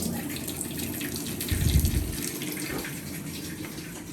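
A spoon is rinsed under a running kitchen tap, giving a steady hiss of flowing water that splashes louder briefly partway through, with no talking.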